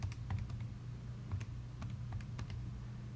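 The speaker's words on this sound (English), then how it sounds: "I'm going to type in -1/2." Quiet computer keyboard typing, a handful of light, irregular key clicks spread over a few seconds against a low background hum, with no voice.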